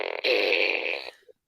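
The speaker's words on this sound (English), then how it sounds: "Now it's like the puppet's farting into the mic." A puppet's rear is pointed straight into a microphone, producing a single close, loud fart-like blast just over a second long that trails off into a brief sputter.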